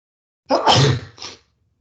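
One sneeze up close: a sharp, breathy burst with a short trailing gasp, then quiet.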